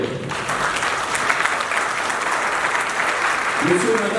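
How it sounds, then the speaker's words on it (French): A wedding audience claps for the witness couple in steady, dense applause that fills the room, with a voice rising briefly near the end. "S'ils sont là, qui s'élèvent, on applaudit pour le couple témoin"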